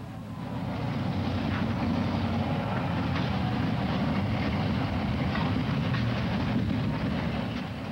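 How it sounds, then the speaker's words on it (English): EMD diesel engine under the hood of a first-generation Jeep locomotive, a steady, loud low chant with a rumbling drone and faint rail clatter held continuously throughout. "The unmistakable chant of the EMD engine coming from under a Jeep's hood can still be heard"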